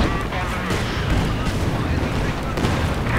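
Mortar rounds and an exploding gas tank in Company of Heroes 2 battle combat, a dense, continuous roar of booms and blasts with heavy low rumble throughout.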